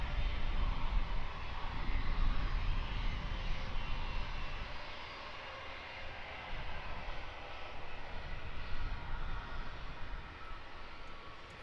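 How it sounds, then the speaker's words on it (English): Airbus A321neo jet airliner departing London Luton Airport, a steady broad engine roar that swells early then eases slightly, heard from a distance with no talking. "Aircraft on your screens now. A321neo."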